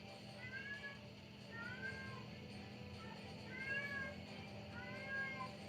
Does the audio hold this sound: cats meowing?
yes